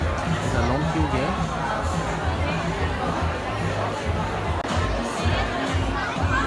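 A crowd queuing inside a newly opened frozen yogurt shop on Orchard Road in Singapore fills the space with constant overlapping chatter and babble, with nearby voices talking throughout.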